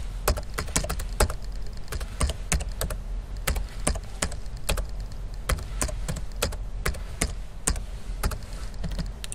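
Computer keyboard typed steadily for several seconds, crisp close clicks in uneven runs with brief pauses, over a low background hum and no voices.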